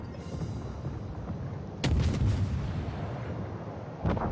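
Naval guns fire from a warship in World of Warships, a sustained rumbling battle backdrop broken by a sudden heavy boom near the middle and another sharp blast near the end, loud and close.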